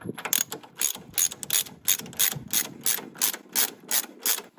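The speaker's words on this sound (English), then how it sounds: "With the lock nut slightly loosened, I can take off the top nut." A ratchet spanner loosens the top nut on a Ford Transit track rod end, clicking in about ten quick, even bursts close up, with no talking.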